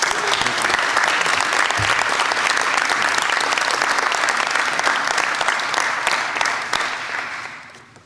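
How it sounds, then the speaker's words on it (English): Board of regents members and attendees at a meeting applaud their vice president, a loud, dense round of clapping that holds steady and then fades out at the end. "Let's give a round of applause to our Vice President Sean Nelson."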